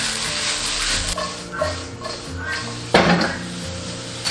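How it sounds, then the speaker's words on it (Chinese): Dried shiitake, wood ear and king oyster mushrooms stir-fried in a wok with scallion, ginger, garlic and fermented black beans: a steady sizzle with spatula scrapes and clanks against the metal, close and fairly loud, with a voice talking over it. "我们下入干香菇跟木耳，还有杏鲍菇，然后翻炒均匀"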